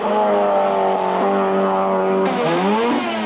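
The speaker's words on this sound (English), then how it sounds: "Canberra's Nick Belfield gets away in his quick but reliable Datsun." A Datsun rally car pulls away from the start at a 1984 NSW Rally Championship event, its engine loud and close, revving steadily with a gear change near the end.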